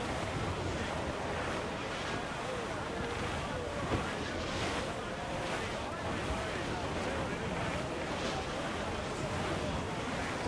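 A sailing ship rides a squall in the game Caribbean Chronicles, with steady roaring wind and crashing surf around the hull, loud and unbroken, and faint voices beneath.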